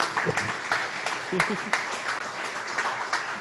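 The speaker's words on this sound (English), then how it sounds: "let's give him a huge round of applause" Scattered applause from an audience, uneven claps spread across the moment with some voices mixed in.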